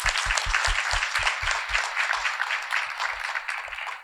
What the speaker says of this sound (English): let's give that a clap